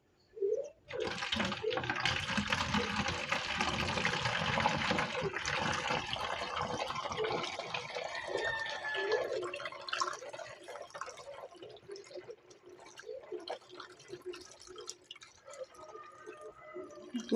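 Fabric conditioner poured into a one-gallon container, a quiet continuous liquid stream and gurgle that tapers into scattered drips and small splashes.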